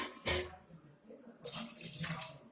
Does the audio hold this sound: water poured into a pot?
yes